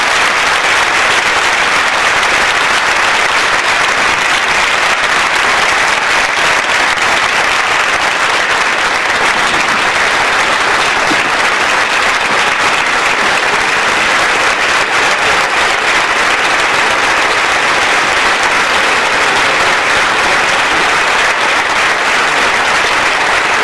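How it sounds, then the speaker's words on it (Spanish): A large audience at an Alcorcón tribute to victims of terrorism applauds the state security forces and Civil Guard, giving a loud, dense and sustained round of clapping that holds at full strength throughout. "quiero un gran aplauso para las fuerzas y cuerpos de seguridad del Estado"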